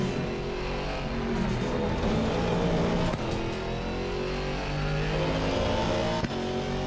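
A GT4 race car in the sim racing game Assetto Corsa Competizione holds a loud, steady engine drone with layered harmonic tones, shifting slightly in pitch, with brief gear-change dips heard alone.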